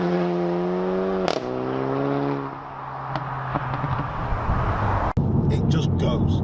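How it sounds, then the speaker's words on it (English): A Golf GTI with an APR Stage 3 tune and DSG gearbox accelerates hard, its engine note climbing in harmonic sweeps, then dropping with a gear change, ending in a sharp crack, all under a speaking voice. "this car picks up speed like you would not believe"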